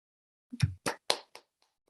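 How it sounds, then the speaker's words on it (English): A few committee members clap on a video call during a judiciary meeting, giving four or five quiet, sparse hand claps in quick succession. "committee members, I would like to do just a round of applause to Miss Reed and Mr. Beaver."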